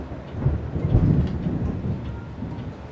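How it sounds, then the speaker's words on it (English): A deep rumbling crack of thunder rolls through heavy rain, swelling loud and low in the first second and then trailing off into a steady wash of rainfall. "that sounded like a crack thunder"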